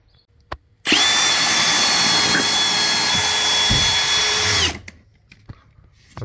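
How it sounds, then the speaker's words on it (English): Power drill boring a pilot hole for a hose faucet install, a loud steady whine running about four seconds before spinning down, framed by quiet handling clicks. "Let's go do a pilot hole."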